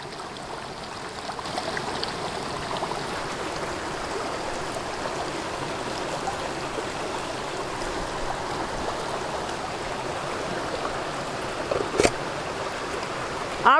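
A flowing outdoor stream with a steady, continuous babble and rush of water as water is collected from it for purification, heard alone at close range with a brief splash near the end.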